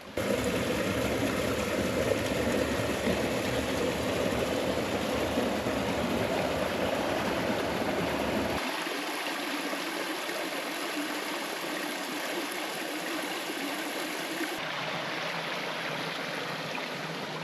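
Clear river water flowing down a rocky canyon on a hiking loop in Guam, a continuous broadband rushing wash that drops in low rumble about halfway through and then continues steadily, with no speech.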